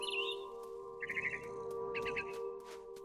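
In the video game What Remains of Edith Finch, a mother bird chirps in short bursts of rapid high trills over a steady humming background score, quiet and with no talking.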